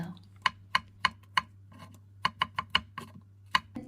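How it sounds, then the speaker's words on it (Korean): A knife slicing button mushrooms flat on a cutting board produces about a dozen crisp, close taps in short bursts, with a low steady hum underneath. "가지하고 잘 어울리는 양송이 버섯도 납작납작 썰어주세요"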